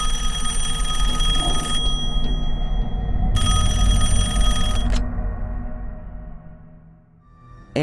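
An old-style telephone bell rings loudly in two long bursts separated by a pause, each ring a bright metallic trill over a low rumbling background.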